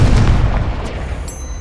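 A Confringo fire spell from Hogwarts Legacy bursts with a loud, close boom at the start, then a rumbling decay that fades over about a second and a half.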